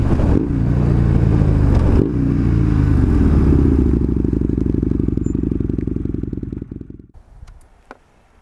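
A Husqvarna 900 Nuda motorcycle pulls away under loud, close engine roar that climbs through revs, then fades and drops off sharply near the end, leaving quiet with a few small knocks.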